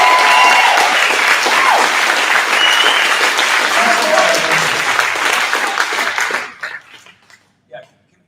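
An audience at a school board meeting in Burlington bursts into loud, sustained applause that fills the room, then tapers off into a few scattered claps.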